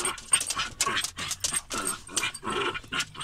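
A small dog pants rapidly and whimpers in short bursts, close by and fairly quiet, with a few soft yips mixed in.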